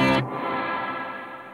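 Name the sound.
guitar with 200 ms pre-delay reverb effect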